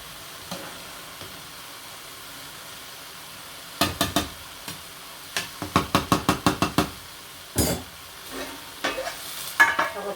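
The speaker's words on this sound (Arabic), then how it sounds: "طبعا هنا بقلب في التسبيكه" A spoon stirs spaghetti in simmering tomato sauce in a pot, giving clusters of quick scraping knocks against the pot side over a low bubbling background, with no talk.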